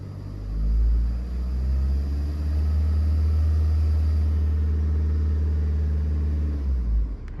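A VW diesel engine held at about 2000 RPM during a particulate filter regeneration, a loud, steady low rumble with a slight swell near the start and a drop at the very end.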